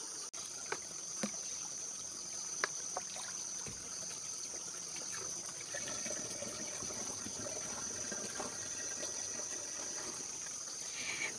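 Water being fetched for a cucumber farm trickles and splashes steadily at close range, with occasional small knocks and clunks over a constant high-pitched hum.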